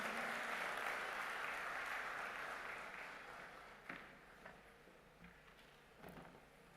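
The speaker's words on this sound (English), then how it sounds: "Let us welcome him with a huge round of applause" Audience applause welcoming a minister onto the stage at a BioAsia 2024 conference, a steady wash of clapping that gradually fades, with a few louder knocks near the end.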